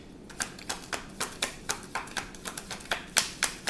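Thin, flimsy tarot cards are riffled and tapped in a quick, steady run of about a dozen sharp, close snaps with a light rustle between them, and no talking.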